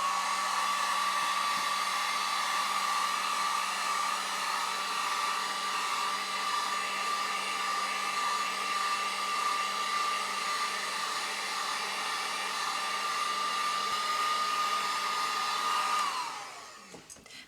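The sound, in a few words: heat gun drying screen-printed shirt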